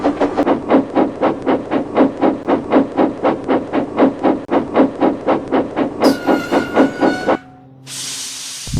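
Steam engines rushing down a main line, a loud steady train of rhythmic chuffs with hissing, then a piercing whistle blast and a burst of steam hiss at the end.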